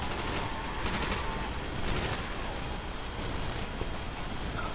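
LMGs and a Thompson fire in the Nacht der Untoten zombies video game, a dense, constant rattle of automatic gunfire with sharper bursts now and then, loud and continuous throughout.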